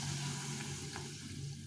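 Green pea kachori frying in a pan of oil give off a steady, close sizzling hiss, loud and continuous with no voices.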